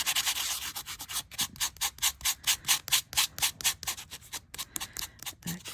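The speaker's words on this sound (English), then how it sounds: "We're going to buff it." A metal-tape-embossed Easter egg diecut is buffed with rapid, rhythmic rubbing strokes, a dense series of short scratchy swipes, close and clear.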